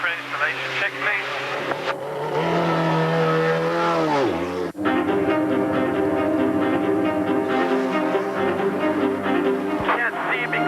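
An IndyCar spare race car runs installation laps on an oval during a 2002 Indy Racing League Chevy 500 weekend, its engine screaming and shifting pitch loudly and close as it passes, with radio talk heard over it.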